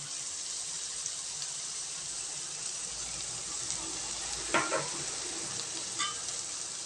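Onions sautéing in a pan for a boneless goat head fry give a steady, even sizzle, with a few brief scraping stirs toward the end.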